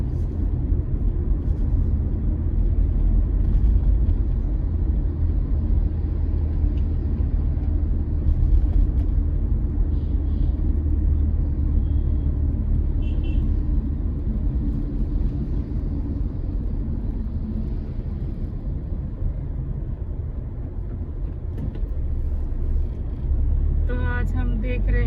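Sunday road traffic on Bangalore's Outer Ring Road with a bus lane, during the Covid period: a continuous, loud, close engine rumble with a voice talking over it.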